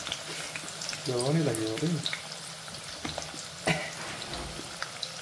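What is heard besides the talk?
onions frying in hot oil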